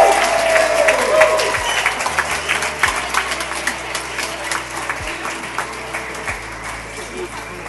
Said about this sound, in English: Join with me in a round of applause for Kristian and Lucy, and in particular, a cheer for Leo and Lavender.